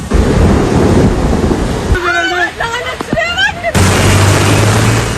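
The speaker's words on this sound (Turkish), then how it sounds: "İstanbul sağanak yağmura ve fırtınaya teslim oldu." Heavy rain roars loudly during a thunderstorm in Istanbul, dropping out briefly while voices talk, then returning in a dense downpour with a low rumble.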